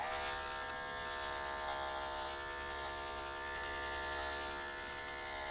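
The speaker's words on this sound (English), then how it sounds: "We'll also clip up the back of the head around the ears, and we're going to use the 5FC." Andis electric clippers with a 5FC quarter-inch blade buzz steadily and close while shearing a market wether goat's hair around the head and ears, a continuous tonal hum without talk.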